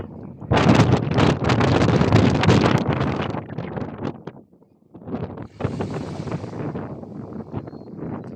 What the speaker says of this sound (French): Alors il y a beaucoup de vent.